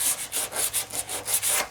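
Dual-action sander with 80 grit paper scuffing the body of a Mazda B2300 pickup, a loud rhythmic scratching that pulses in about nine quick strokes, close and without voices.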